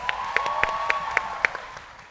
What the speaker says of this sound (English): Can we give Flo a big round of applause?